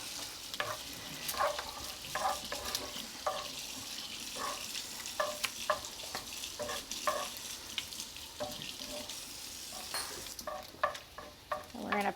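Bacon frying in a pan beside searing scallops, a steady close sizzle broken by frequent clinks and scrapes of stirring, with running tap water faintly in the background.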